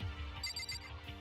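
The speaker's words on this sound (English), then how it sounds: "My phone is on low power mode, that's why it keeps going off." A phone alert chimes briefly in a girls' locker room in the game Danganronpa Trigger Happy Havoc, a short bright tone over a steady low background hum.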